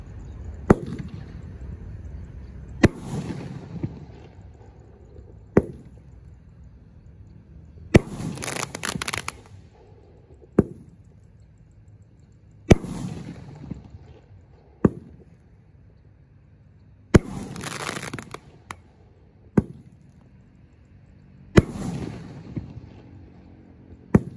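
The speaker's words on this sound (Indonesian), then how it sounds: "Roman candle terbesar spesial Lebaran 2023." Mercon Basoka roman candle fireworks, forty 400-shot cakes lit together for Lebaran, pop in loud separate blasts every couple of seconds, each followed by a fading rumble.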